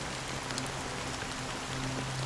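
Steady rain falls on a surface in an even, close, continuous hiss with scattered droplet patter and a faint low hum underneath, no voices.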